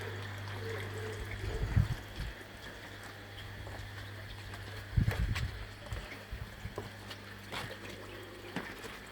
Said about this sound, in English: just pull the lever at the back down there, and that automatically lets the water out to go into the drainage system